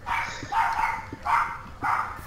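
A dog barks in Minecraft, three or four clear woof bursts spaced about half a second apart at a steady rhythm, with no talk over them.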